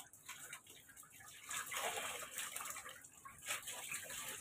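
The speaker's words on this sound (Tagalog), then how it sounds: "Nilagyan ko ng mainit na tubig" Warm water pours and splashes into a baby's bathtub at bath time, a soft continuous gush with faint trickling that swells and eases, fairly quiet and close.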